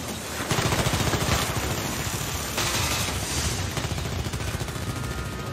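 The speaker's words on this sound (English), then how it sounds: "We have to shoot at their feet!" Dense bursts of automatic gunfire during a police assault in a Money Heist scene, a continuous rapid rattle of shots layered over loud rumble, close and intense without pause.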